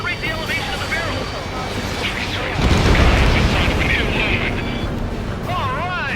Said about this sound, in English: Confirming explosions. The rail cannon's been destroyed.